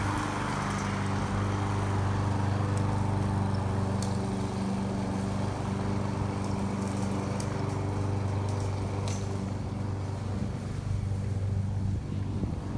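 A steady engine drone hums continuously, like a lawn mower running nearby, with wind rumble over the microphone and no speech.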